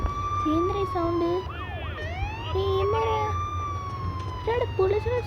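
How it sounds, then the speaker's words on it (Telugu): Police car sirens in the video game GTA 5 wail and sweep up and down as they approach, steady and fairly loud, with a low engine rumble beneath and a brief spoken remark over them. "పోలీసులు వస్తున్నారు"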